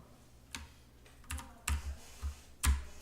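Computer keyboard keys pressed while working in Adobe Illustrator CS6, a few scattered clicks and a quick double tap with irregular spacing, close and fairly quiet against a soft background hum.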